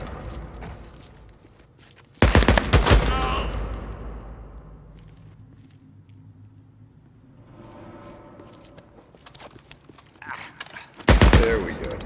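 Bursts of rapid gunfire in the video game Days Gone, loud and dense at the start and again at the end, with quieter game ambience and engine-like rumble between them.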